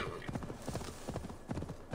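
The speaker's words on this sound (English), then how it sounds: "the horse slows down when he's not on a path" Horse hooves in Assassin's Creed Valhalla, a fast, rhythmic clip-clop of galloping on a path, steady and moderately close, with faint game ambience underneath.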